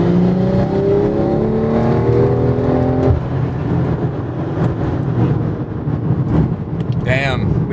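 A big-turbo BMW M340i on pump gas accelerates hard in manual mode with stability control off, engine note climbing through the gears with sharp shift breaks, loud and close from inside the car, with a voice speaking over it.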